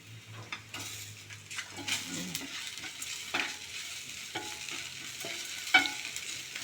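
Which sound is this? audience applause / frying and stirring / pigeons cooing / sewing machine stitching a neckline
frying and stirring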